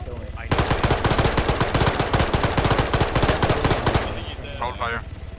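Sustained rapid automatic gunfire in the Arma 3 video game rattles loudly and continuously for several seconds, then tapers off into a quieter, more distant tail.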